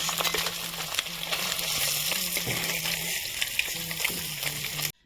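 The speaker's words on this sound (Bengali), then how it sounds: "আমার মাছটা হাফ ভাজানো হয়ে গেছে, এখন আমি উল্টে দেবো" Half-fried fish in hot oil, a loud, continuous crackling sizzle with a low hum and occasional clicks of stirring, stopping abruptly at the end.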